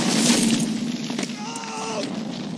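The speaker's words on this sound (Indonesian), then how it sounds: "satu misil artileri bagaikan bintang jatuh menghujam tubuh Harry Wells" An artillery shell bursts in a snowy Bastogne battle scene from the war drama Band of Brothers, a loud crashing blast that decays into rumbling debris and ringing.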